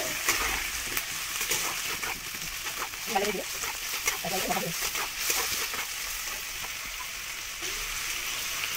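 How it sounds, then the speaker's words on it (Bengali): Dombur and diced potato fry in a pan with cumin seeds, a continuous crackling sizzle with occasional stirring scrapes, while a voice talks over the cooking. "এবার দেব ডম্বুর আর আলুটা। এবার এটাকে ভেজে নেব।"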